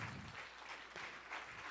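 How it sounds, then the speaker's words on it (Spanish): Church conference audience applauding for Jesus Christ, a steady wash of clapping from many hands throughout, fairly distant and faint. "Denle un aplauso fuerte a Jesucristo"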